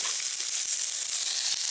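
Sirloin steak pieces for tacos sizzle in a pan over medium heat, a steady close hiss dotted with small crackles and pops, with no talking.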